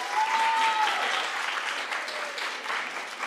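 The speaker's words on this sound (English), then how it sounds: "I would love it if you could honor them all with some applause" Applause from an audience at a university drama awards ceremony, a steady wash of many hands clapping, moderately loud and sustained throughout without talk.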